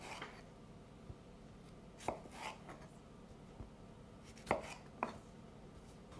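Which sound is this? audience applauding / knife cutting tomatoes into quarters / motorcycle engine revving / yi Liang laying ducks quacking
knife cutting tomatoes into quarters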